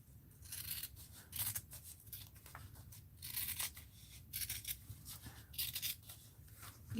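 Scissors snip repeatedly through fabric trim, cutting down its center in a steady run of crisp, close, moderately quiet cuts with brief pauses, no talking.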